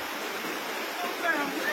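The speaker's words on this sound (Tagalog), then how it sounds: "dahil sa lakas ng impact ng tubig na ito at tumatama sa aking katawan" A strong river flow in San Juan, Libertad, Antique pours onto a person's body, giving a close, constant hissing splash of water with slight surges.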